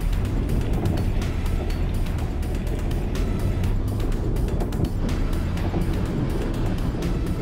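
4x4 vehicle crawling over rocky ledges in high country, a constant low engine rumble with bumps and knocks from the rough ground.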